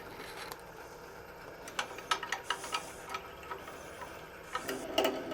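A wood lathe turning a homemade woodturning tool runs at roughly 500 RPM. A low mechanical whir carries uneven ticking and clicking, with a brief louder rattle near the end and no speech.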